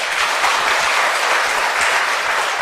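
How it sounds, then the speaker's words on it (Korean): A church congregation at a Wednesday evening service applauds steadily, a dense, even wash of many hands clapping close by for the whole stretch, with no talk over it. "영광 돌리는 우리 박수 한번 해드리십시오."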